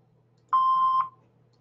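An answering machine gives a single steady electronic beep, about half a second long, clear and close against a faint hum, with no talking.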